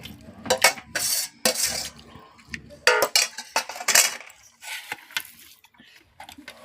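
Rice with egg curry and greens being mixed by hand on a plate during a home lunch, producing soft irregular squelching and scraping with light plate and cutlery clinks, close and moderately loud.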